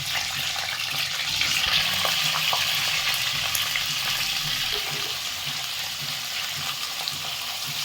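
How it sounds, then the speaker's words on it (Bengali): A steady, loud sizzle of cauliflower frying in hot oil, close and continuous with faint crackles, no talking. "এই গরম তেলের মধ্যে ফুলকপিটা দিয়ে দিচ্ছি।"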